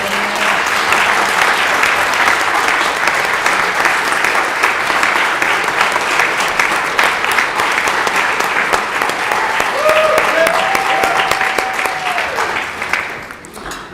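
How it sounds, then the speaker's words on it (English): Sustained applause in a legislative chamber for a staff member, many hands clapping loudly and evenly for over ten seconds before tapering off, with a voice briefly speaking near the end. "can we give her a round of applause?"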